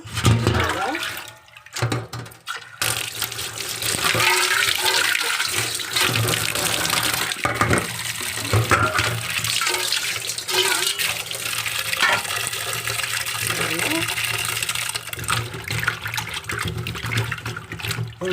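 Taro roots are washed under running water in a home kitchen, a continuous splashing gush with brief pauses and hand-rubbing sounds, fairly loud and close.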